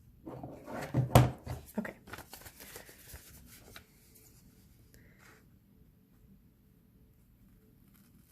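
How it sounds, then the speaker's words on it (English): Scissors cutting through both layers of a folded sheet of paper for a mini zine, a burst of close crisp snipping and rustling over a few seconds, then near silence, with a brief spoken word. "I'm going to take a pair of scissors and I'm going to cut just from here to here"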